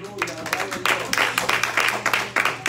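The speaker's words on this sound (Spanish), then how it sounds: "Dele un fuerte aplauso al Señor." Scattered clapping from a church congregation swells in uneven bursts, with voices mixed in underneath and a low steady hum in the background.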